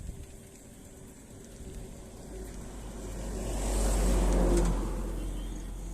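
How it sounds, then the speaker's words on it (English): A truck approaches and passes a cyclist riding at night, its engine rumble swelling from a faint hum to a louder low roar and then easing, heard over steady road and wind noise. "Now there is a truck coming in front of me."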